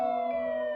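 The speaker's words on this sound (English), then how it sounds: "And the sirens are approaching." A siren wails in a short burst of steady electronic tones, fairly loud and close, with no voices over it.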